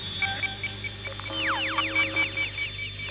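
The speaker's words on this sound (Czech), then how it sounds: "Stisk klávesy je akusticky signalizován krátkým tónem, pípnutím, jehož výška se mění dle zvoleného významu klávesy." Short electronic key-press beeps from an IQ 151 school microcomputer, a series of brief tones of varying pitch repeating at an even pace over faint hum.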